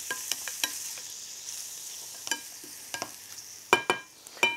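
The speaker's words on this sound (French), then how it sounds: "Donc nous allons faire suer les oignons." Julienned onions sweat in fat in a sauté pan, giving a continuous soft sizzle punctuated by sharp spatula clicks and scrapes, a cluster of louder stirring knocks near the end.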